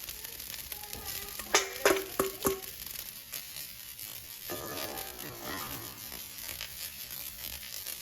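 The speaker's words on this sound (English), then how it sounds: "You're gonna wanna fry this rice until it's got some color and has developed a nice crispy shell." Rice frying in oil in a pan, a steady close sizzle with a few sharp clinks of a utensil stirring against the pan early on, then softer continuous crackle.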